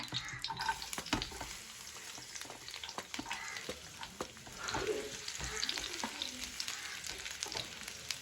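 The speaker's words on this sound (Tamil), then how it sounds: "தேங்காய் எண்ணெய் ஊற்றுறேன். பூண்டு போட்டு வதக்கிக்கங்க" Garlic sautéing in coconut oil for coconut rice, a continuous close crackling sizzle broken by frequent clicks and scrapes of a spoon stirring in the pan.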